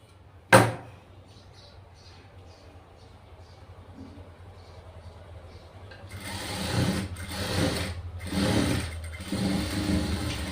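A sewing machine stitching a doubled, folded strip of fabric for a tailored buttonhole placket; quiet at first after a sharp click, then several loud bursts of fast mechanical stitching close up, with brief pauses between runs.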